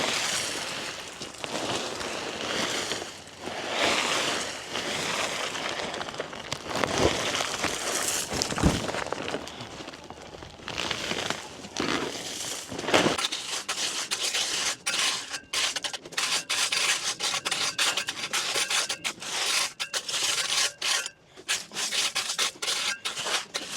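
Decorative gravel spread and raked by hand over a plastic matting grid on a driveway, giving repeated coarse scraping and crunching strokes in uneven bursts throughout, close and fairly loud with no talking.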